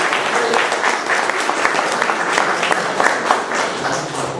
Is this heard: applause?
yes